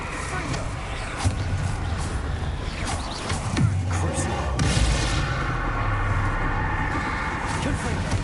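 The blasting spell Confringo goes off in Hogwarts Legacy, with booming bursts and explosive thuds mixed into ongoing game action and a speaking voice throughout.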